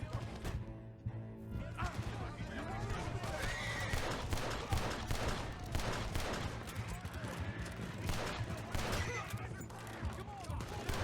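Red Dead Redemption 2 game audio with rapid gunfire aimed at a horse, whose distressed neighing and hoofbeats mix with bursts of shots throughout a busy, layered soundscape.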